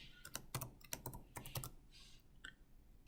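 Keys clatter on a computer keyboard in quick irregular bursts with short pauses, close and fairly quiet.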